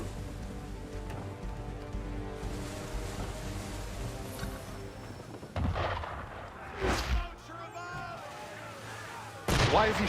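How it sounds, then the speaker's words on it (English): Cannon fire from a ship in Assassin's Creed III, a few heavy booms at irregular intervals over a low rumbling background, with faint voices between the blasts. "Why is he shooting at us?"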